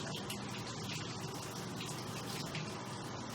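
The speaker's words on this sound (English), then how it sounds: "after this, you just pretty much let the washers do their job" Washing machine filling with water, a steady broadband gush of rushing water running continuously at moderate level with no voices.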